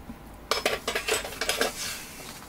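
Grated tomato being sautéed in a pan for garlicky chicken bulgur pilaf: a quick run of close metallic scrapes and clinks from a utensil stirring against the pan over a steady low hiss.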